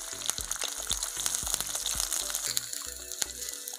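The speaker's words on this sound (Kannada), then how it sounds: "ಈರುಳ್ಳಿ ಚೆನ್ನಾಗಿ ಫ್ರೈ ಆಗಬೇಕು." Onions frying in oil with fennel seeds, cinnamon, cloves and cardamom for mutton sukka, a steady close sizzle with scattered sharp pops and crackles and a few soft stirring clinks, no voices.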